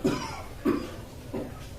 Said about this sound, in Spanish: Haga fuerza como tosiendo, tosa.